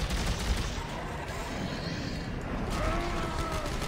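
Rapid gunfire rattles continuously while a monster is shot at in the video game Dead Space 3, a dense, loud burst of shots layered over game noise for a few seconds.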